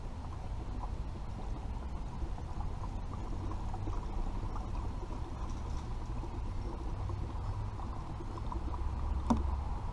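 Gasoline pouring steadily from a no-spill gas can nozzle into a container, a continuous low rushing gurgle that stays even and close throughout.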